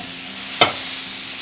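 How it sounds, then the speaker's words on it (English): Butter melts in a hot pan with an even, close hiss and a single sharp tap or click partway through, with no voices. "So I'm going to add the butter to the pan."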